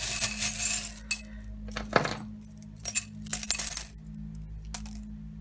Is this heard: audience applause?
no